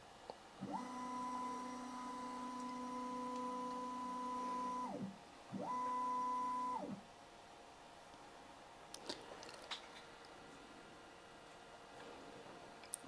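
A Prusa MK4S 3D printer driving its Z axis, two sustained whining motor tones with clean start and stop, one long run and a shorter second, followed by a few faint clicks.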